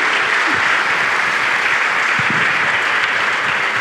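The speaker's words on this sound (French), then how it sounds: "Et on les applaudit, merci." Sustained, dense applause from a seated audience at a security directors' gala dinner, loud and steady throughout with no voices over it.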